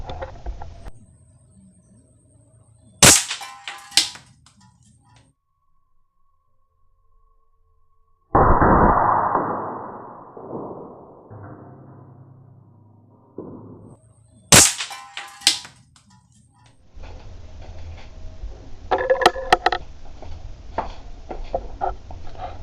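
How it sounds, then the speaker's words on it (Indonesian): A Primer X1 toy gun fires in two sharp, loud cracking bursts spaced well apart, with quieter rustling, scraping handling noises and faint background hum in between. "Sekarang kita nembak"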